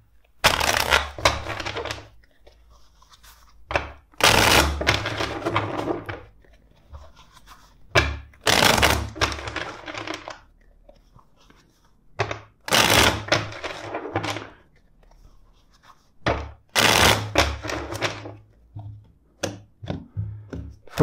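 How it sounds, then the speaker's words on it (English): Bursts of tarot cards being shuffled, riffled and tapped together, repeated several times with short quiet pauses in between, close and crisp. "let's shuffle the deck four times for you."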